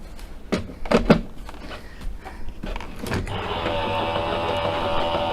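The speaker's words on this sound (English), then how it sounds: "Run this through the die cut machine." A die cut machine feeds card through with a steady mechanical whirring hum that starts a few seconds in, preceded by several clacks and handling knocks.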